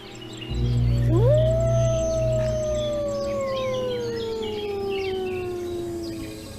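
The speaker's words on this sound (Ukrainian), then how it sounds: "Вовк виє, закинувши голову назад, і звук лунає на 9 кілометрів." A single long, mournful wolf howl rises sharply then slowly glides downward, sustained for several seconds over a low rumbling background.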